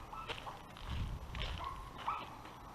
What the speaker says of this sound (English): They got all these dogs and they tie them up